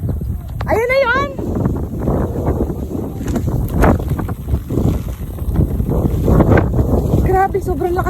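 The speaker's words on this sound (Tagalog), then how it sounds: "Grabe, sobrang lakas ng hangin dito" Strong wind sweeps across open rice fields with no trees around, buffeting the microphone with loud, gusty rumbling. Voices briefly rise above the wind, including an excited exclamation near the start and a short call at the end.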